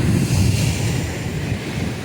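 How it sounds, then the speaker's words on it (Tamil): Sea waves washing onto a long, empty sandy beach, a continuous loud rushing roar mixed with wind buffeting the microphone, with no talk. "உங்களுக்கு அந்த கடல் அலை வந்து எங்கே இருந்து எங்கே வரைக்கும் வந்திருக்கு பாருங்கள்"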